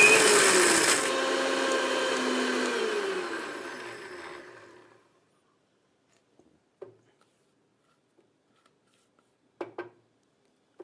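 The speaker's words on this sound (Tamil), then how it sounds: "இந்த வறுத்ததை நம்ம பொடி பண்ணிக்கலாம்." A mixer grinder whirs loudly as it grinds roasted spices to powder, running steadily for about four seconds before winding down to silence, followed by a few faint knocks and clicks.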